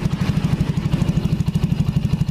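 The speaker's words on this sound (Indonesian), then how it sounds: "suara mesinnya sudah senyap, seperti tidak menyala tuh" A 2007 Yamaha Jupiter Z motorcycle engine idling after being refitted to its frame, a soft, even, rapid puttering pulse, close and steady with no revving.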